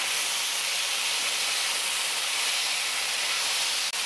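Chopped onions go into small-cut potatoes frying in a pan, producing a loud, close, continuous hiss of oil sizzling with no talk, holding steady throughout with a brief dip near the end.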